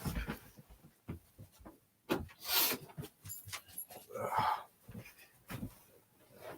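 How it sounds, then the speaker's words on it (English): A restless dog asking to leave a room indoors, heard as quiet, close shuffling, rubbing and breathy movement noises in uneven bursts. "my dog wants out of the room here"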